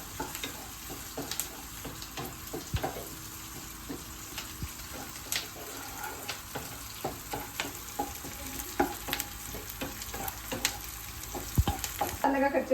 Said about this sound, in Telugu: జీలకర్ర కూడా వేసేసుకొని ఒక 2 నిమిషాలు ఫ్రై చేసేసుకుందామండి